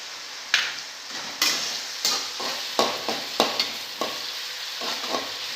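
Green chillies hit a sizzling pan of curry-leaf tempering for an egg pulusu, the steady frying hiss broken by a series of sharp, close stirring scrapes and clinks at regular intervals.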